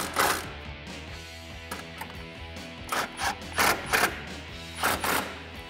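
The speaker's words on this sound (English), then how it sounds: "once that self-tapping screw's tightened down, you can tighten down both of those hex bolts" A ratchet with a 14mm socket cranks hex bolts on an F-150 cold air intake install, giving bursts of quick clicking and scraping separated by short pauses.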